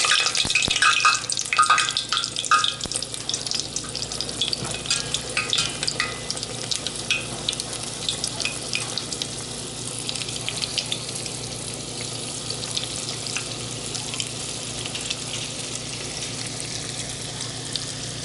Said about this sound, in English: who else loves the sound of grease popping?